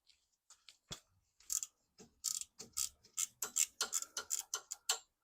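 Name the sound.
ratcheting wrench clicking while removing starter bolt, Mercedes C43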